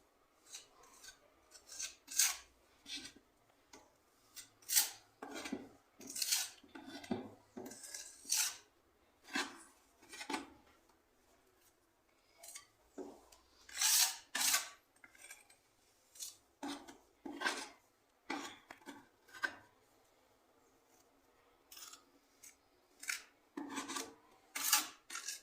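A spatula spreads and smooths wet filler putty over holes in a wall, in repeated rasping scrapes that come in short bursts with brief pauses between strokes.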